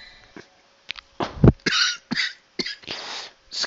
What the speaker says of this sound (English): Excuse me for the coughing, guys.